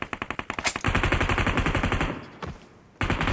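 Automatic gunfire in the mobile battle royale game BGMI/PUBG Mobile: a rapid burst of close, sharp shots, then a second sustained stream of fire, a brief lull, and another burst at the end.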